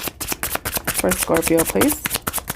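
Tarot cards riffled and shuffled for a Scorpio reading, a run of quick papery flutters and soft taps, close and clear, while someone talks over the shuffling.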